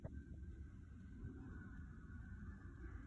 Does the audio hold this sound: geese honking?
yes